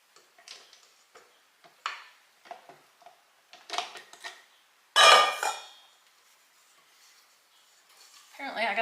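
Small spatula scraping sugar cookie dough from a bowl, in a series of short scrapes and light utensil clinks against the bowl, close and moderately loud, with a brief voice near the end.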